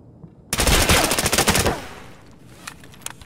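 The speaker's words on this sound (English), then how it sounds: "Is he using a sniper rifle?" Sniper rifle gunfire in the Valorant video game: one loud, close burst of shot and crackling impact lasting about a second, followed by faint game ambience with a few small clicks.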